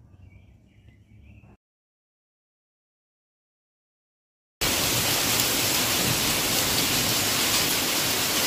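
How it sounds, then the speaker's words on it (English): A quiet stretch and a silent gap give way to a loud, dense, unbroken roar of hail pelting down in a heavy storm. "we're getting a good hailstorm here"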